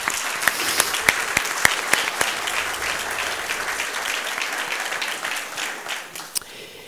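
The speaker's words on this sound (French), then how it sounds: "Je pense qu'il mérite une bonne main d'applaudissement." A crowd breaks into sustained applause, dense clapping from many hands that holds steady, with a few sharp individual claps standing out, then gradually thins.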